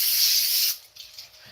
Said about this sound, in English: I got my sheet pan, and I'm going to go ahead and spray it a little bit.